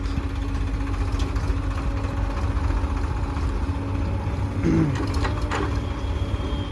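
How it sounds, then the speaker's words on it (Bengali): A Swaraj 744 FE tractor engine running at a worksite where mud is being loaded, a steady loud diesel drone that continues unbroken, with a brief mechanical clank near the end. "স্টার্ট করা হয়েছে স্বরাজ 744 FE।"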